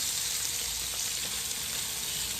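Butter sizzles and fries steadily in a hot pan for Jamaican-style brown stew porgy fish, a constant bright hiss with faint pops and no talking.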